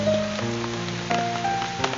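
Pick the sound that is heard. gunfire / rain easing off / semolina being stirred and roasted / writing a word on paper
rain easing off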